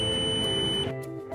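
A Sumitomo Q502 fusion splicer's oven gives a steady electronic beep after its cooling cycle, a clear high tone over a machine hum that stops abruptly near the end.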